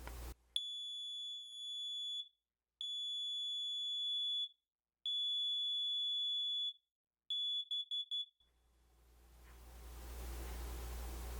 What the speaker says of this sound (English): Oh my god, this is loud